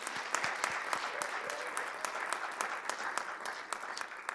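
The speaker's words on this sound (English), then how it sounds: "Can we applaud them now before we even start?" Audience applause for student winners at a poetry recitation competition, steady crisp clapping in a hall, fairly quiet and continuous throughout.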